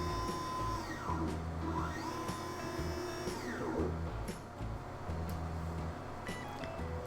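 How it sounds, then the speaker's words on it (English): An xTool P2 laser engraver runs a thickness measurement with a steady mechanical whir and hum, punctuated by sweeping motor whines as the head moves, close by with no talk. "I'm going to turn the machine on. Now we're going to measure the thickness of our material."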